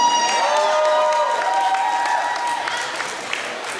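A crowd at a street food festival in Malaysia claps and cheers, a short, loud burst of applause mixed with whoops that fades over a few seconds, with tonal music or announcements ringing underneath.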